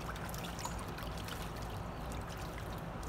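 A Swedish black duck dunks and splashes in bath water, making continuous close watery sloshing and trickling with no clear pauses and no talk.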